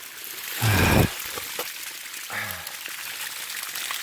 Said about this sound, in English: Crystal spring water.